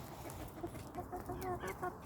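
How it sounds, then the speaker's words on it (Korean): Korean native chickens cluck nearby in a farmyard, a series of short, repeated clucks over low background rustling. "토종닭입니다."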